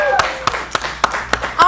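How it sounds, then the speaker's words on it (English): A live audience claps in scattered, fairly sparse hand claps that land as distinct sharp bursts, while a host keeps talking over them. "Give the live audience a round of applause."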